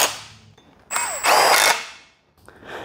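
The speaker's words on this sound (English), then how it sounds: "And we'll take one bolt out of here." A power tool spins a bolt out of a Mercedes C63 M156 engine during assembly: one short, loud whirring burst that rises and then winds down, with quieter mechanical clatter before and after.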